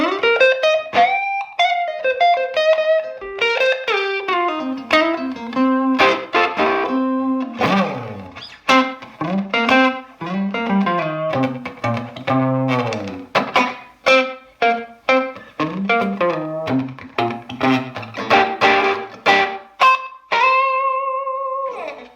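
Overdriven electric guitar through a Line 6 HX Effects unit plays a busy melodic line with a quick vintage digital slapback echo doubling each note, ending on a sustained chord; no talking.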